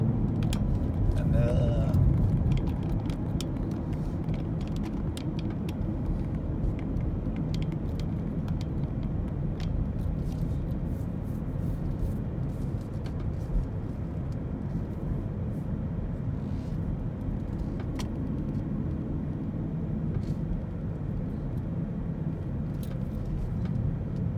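A car drives along a road toward a subdivision, a constant low road rumble and engine drone heard from inside the vehicle, with someone talking over it throughout.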